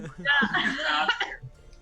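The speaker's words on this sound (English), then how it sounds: "That's a real cough, sorry." A short burst of rough, raspy coughing from a nearby voice, lasting about a second before trailing off.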